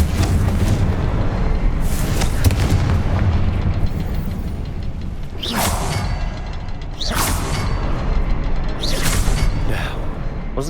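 A Confringo blasting spell in Hogwarts Legacy produces repeated whooshing bursts and booming explosions over a rumbling combat backdrop, loud and close with no talk.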